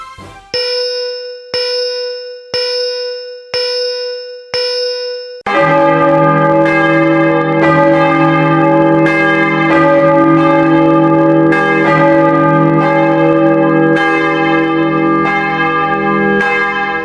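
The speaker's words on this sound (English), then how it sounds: "Now we will ring the bell of Balzian once again to show off the unofficial partial tally." A large bell is rung to announce a partial election tally: five single clangs spaced about a second apart, then a sustained run of loud overlapping rings that continue steadily, with no voices.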